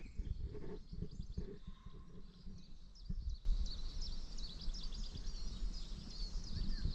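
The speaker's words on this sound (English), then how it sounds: "but listen to the bird song." Birdsong in March beside a river near Telford in the West Midlands: faint, distant chirps and twitters scattered through a quiet outdoor background, with no talking.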